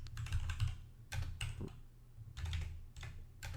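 Fingers tap out a command on a computer keyboard in quick, irregular bursts of crisp clicks with short pauses between them, close and clear in a quiet room.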